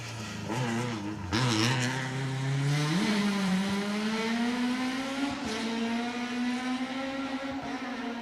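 A loud rally car engine roars past on an asphalt stage of the Manx Rally, its pitch climbing steadily as it revs and accelerates, with a brief crackle of gear changes, close and dominant throughout.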